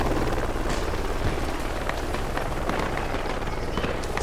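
A helicopter landing in the Project Reality military game gives a loud, steady rotor roar with dense broadband rumble and rhythmic chopping throughout, close and continuous with no talk.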